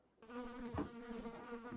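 Flies buzz indoors near trash, a close, insistent droning hum with a steady pitch, briefly punctuated by a soft bump, heard alone without talk.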